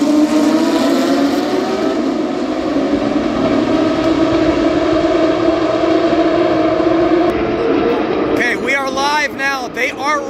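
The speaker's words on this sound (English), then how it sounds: "you are going to go see the Porsche 911 Cup field coming by for the first of their 2 warm-up laps" Porsche 911 GT3 Cup race cars roll by on a warm-up lap at Watkins Glen in 2023, a loud, steady engine drone from several cars with rising and falling revs near the end.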